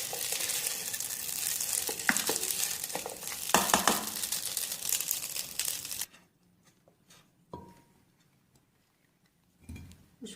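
Pasta being cooked and stirred in a pan sizzles and scrapes densely for several seconds, then falls quiet apart from a few scattered clinks and stirring taps.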